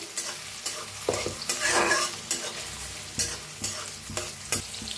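Finely chopped onion frying with cumin seeds in a pan, a steady close sizzle broken by regular scraping clatters of a spoon stirring, with one louder burst of frying midway; no voices.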